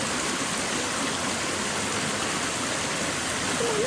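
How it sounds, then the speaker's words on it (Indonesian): Flash flood water from torrential rain rushing through a highland settlement, sweeping along debris and tree trunks; a loud, steady, dense roar of rushing water fills the whole stretch without a break. "Banjir bandang bukan saja menggenangi pemukiman tapi ikut menghanyutkan material termasuk batang pohon."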